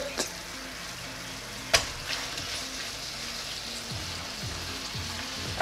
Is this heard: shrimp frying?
yes